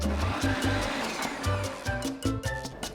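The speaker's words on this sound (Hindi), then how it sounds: "अब मिक्सर में स्प्राउट्स डाल देते हैं और इसमें थोड़ा पानी डालकर पीस लेते" Mixer grinder whirring in loud bursts as it grinds soaked sprouts with a little water, its motor surging and dropping in short pulses at close range.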